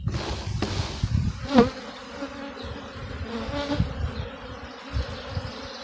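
Honeybees buzz close by at an open hive in an irregular, droning hum, with individual foragers passing near and fading.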